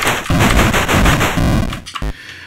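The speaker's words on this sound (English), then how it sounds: "at the moment we can actually do quite a machine gun effect on the aliens" Machine-gun fire aimed at aliens in a Space Invaders video game: a dense, loud burst of rapid electronic shots blurring into a harsh continuous rattle, ending in a few sharper separate hits.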